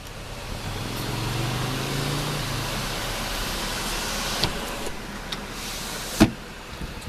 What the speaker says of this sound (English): It's a fully opening sunroof.